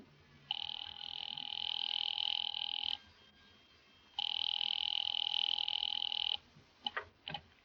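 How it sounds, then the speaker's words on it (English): A telephone rings twice in a 1944 radio drama, each a long steady buzzing trill separated by a pause, followed by a brief clatter. "Ringing Murray Hill 70093."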